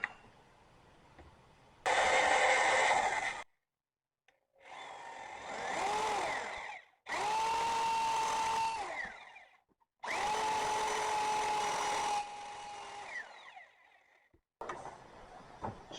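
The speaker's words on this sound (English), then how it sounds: "Get ready to drill your hole." Power drill boring a hole for a door latch plate, running in several loud sustained bursts of steady whine with short pauses between, starting and stopping close by.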